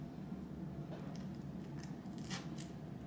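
A fork or knife cuts and crunches through the crisp, caramelized top of a baked French toast casserole, giving a few soft, brittle crackles and squishes up close over a steady background hiss.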